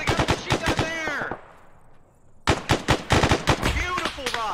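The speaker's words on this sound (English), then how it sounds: "He's shooting at me." Enemy gunfire in the ArmA military video game, sounding as loud, close bursts of rapid automatic shots, with a short quiet gap between two volleys.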